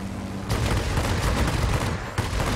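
An Fw 190 D fighter's guns fire a sustained, dense burst in the World of Warplanes game, loud and continuous for about two seconds, then stop briefly before a short renewed volley.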